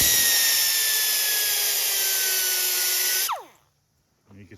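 A power tool grinds into a scrap sheet metal edge with a loud, high-pitched screeching whine held for about three seconds, then spins down quickly into near silence.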